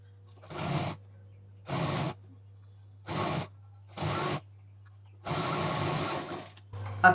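Sewing machine stitching together leftover fabric pieces in five short whirring runs of roughly half a second to a second, then one longer run, separated by pauses over a steady low motor hum.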